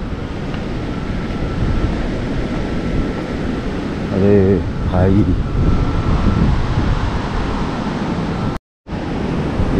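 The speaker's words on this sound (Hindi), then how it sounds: "ये देखिए लहरें कितनी तेज पानी रफ्तार से निकल रहा है" Floodwaters of the swollen Shivnath river near Bhilai, Durg, rush past in a steady broadband roar close to the microphone, with someone speaking briefly over the churning water and a short dropout near the end.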